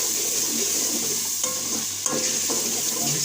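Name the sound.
stirring and frying masala for chana pulao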